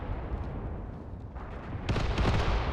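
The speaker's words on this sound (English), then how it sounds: "Mortars are just hitting the empty field." Mortar fire in the World War II strategy game Mius Front: low, rumbling booms roll across an open field, with a sharper, louder impact burst near the end.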